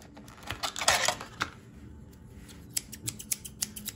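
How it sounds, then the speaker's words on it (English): Small Rapala super line fishing scissors are handled, giving a cluster of quick metallic snips and clicks followed by scattered light ticks, close and crisp with no talking. "These are their super line scissors."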